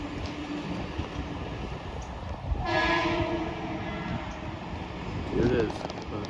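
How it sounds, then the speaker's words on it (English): A cartoon train rolls past with a horn blast, heard as a brief swell of rumble and a sustained horn tone midway through, over a busy background of play and ambient noise. "Oh, here comes the train."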